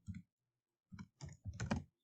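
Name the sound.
computer keyboard keys pressed (Y, V, Enter)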